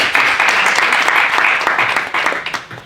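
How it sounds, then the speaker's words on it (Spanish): Audience at a round-table conference panel applauds a speaker, a loud, close, continuous wash of clapping that holds steady and then tapers in scattered claps at the end. "Un aplauso"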